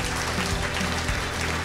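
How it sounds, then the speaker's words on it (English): A conference audience at a hydrogen technology forum applauds the panel. The clapping is dense and continuous, loud and close, and fills the whole moment. "A round of applause to you all,"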